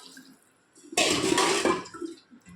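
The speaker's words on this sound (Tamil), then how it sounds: "தண்ணி ஊற்றியாச்சு" Water poured from a 200-gram tumbler onto rice for tomato rice, a short, close, splashing gush lasting under a second between quiet moments.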